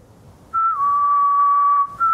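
A video game character whistles a single sustained, steady tone that dips slightly and holds, then briefly rises again at the end, clear and close over a quiet background.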